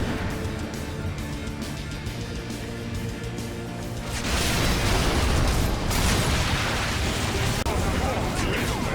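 A bomb explodes in the video game Orcs Must Die, a broad rumbling blast that swells midway and lingers as a dense roar over busy game sounds.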